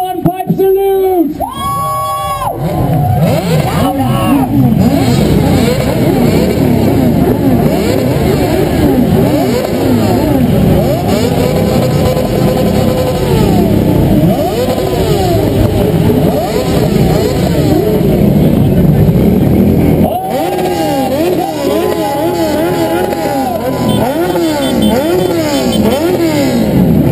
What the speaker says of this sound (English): Rev up those engines, and let's hear the 21 pipe salute.